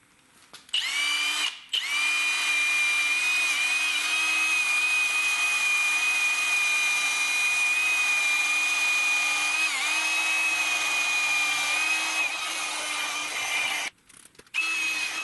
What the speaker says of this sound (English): So I put one of these 800 sanding discs into my drill